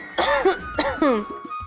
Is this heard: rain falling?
no